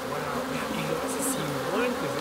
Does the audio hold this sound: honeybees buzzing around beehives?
yes